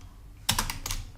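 A short flurry of computer keyboard typing while entering a description in Salesforce, with a few close, sharp key clicks in quick succession after a brief quiet start.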